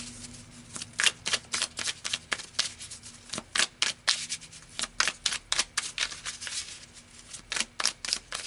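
Tarot cards being shuffled in a quick run of crisp, rustling riffles and flicks, close and fairly quiet, with no voices.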